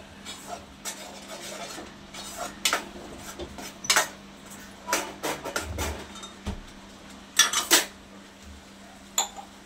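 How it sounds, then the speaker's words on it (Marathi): Egg curry masala being sautéed in a pan with a spoon, with irregular metallic scrapes and clinks of the spoon against the pan, close and fairly loud, spaced over a quiet background. "ह्याला सुद्धा आपल्याला परतून घ्यायचं व्यवस्थित"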